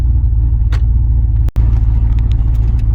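A GMC truck with a new transmission and torque converter driving, heard from inside as a loud, steady low road rumble with a brief dropout midway.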